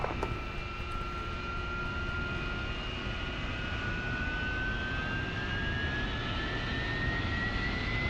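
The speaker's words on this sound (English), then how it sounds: "we need to bring our throttle up, that's why. Just to get our engine RPM up to full" Jet engine of a military aircraft in DCS World, spooled up toward full RPM on the ground: a loud, steady roar with a slowly rising whine held throughout.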